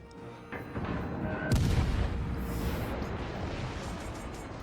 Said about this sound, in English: As you see the battleship returning fire